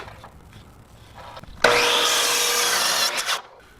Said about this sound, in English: It's a compound miter saw, so now I'm using this I want to cut on this line.